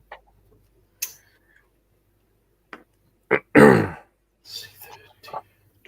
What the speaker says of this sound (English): I keep coughing my guts up